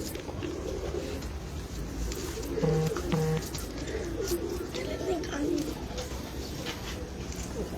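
Pigeons coo softly in a couple of short bursts, low and moderately near, over a steady background hum with faint murmuring voices, at a pigeon breeder's loft.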